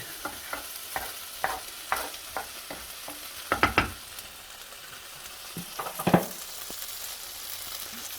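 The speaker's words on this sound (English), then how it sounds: "I'm just going to move my noodles to the side." Cooked noodles for pad thai being stirred and pushed aside in a hot pan: a soft sizzle under repeated scraping strokes of a utensil, with a few louder clatters midway, no voices.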